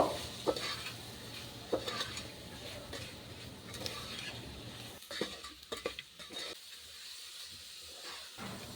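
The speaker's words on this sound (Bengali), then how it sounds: "এবার এই সবজির সঙ্গে মশলাগুলো বেশ ভালো করে আবার এক মিনিট মতো ভালো করে কষিয়ে নেব" Vegetables and ground spices such as cumin and red chilli sauté in a pan for winter vegetable khichuri, with a steady sizzling hiss and intermittent spoon scrapes and clicks. The sizzle quietens toward the end.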